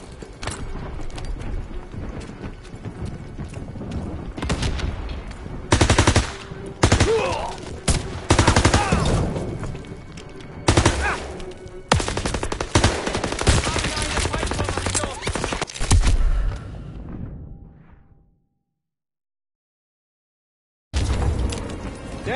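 Dense World War II gunfire fills the Call of Duty WW2 mission Hill 493, with loud rifle and machine-gun bursts cracking in rapid, uneven volleys. Battle noise runs continuously, then cuts briefly to silence before the firing resumes.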